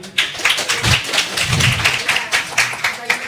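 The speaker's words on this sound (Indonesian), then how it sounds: "Kita tepuk tangan sekali lagi." An audience at a religious debate claps hands together. The applause comes as an uneven patter of claps rising and falling over a few seconds, close and fairly loud.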